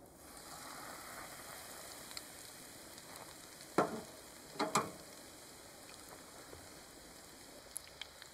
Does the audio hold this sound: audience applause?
no